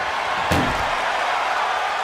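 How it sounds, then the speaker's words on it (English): An ambulance door is slammed shut during a WWE Raw wrestling match, one loud sharp bang against a constant roaring arena crowd. "And they can slam this door shut."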